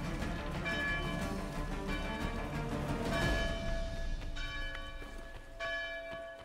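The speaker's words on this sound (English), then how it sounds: "The bell gets kind of annoying, doesn't it?" Assassin's Creed III church bell tolls repeatedly during a battle at Fort Monmouth, its ringing tones sustained under a rumbling wash of game noise, with a louder swell midway and no talking.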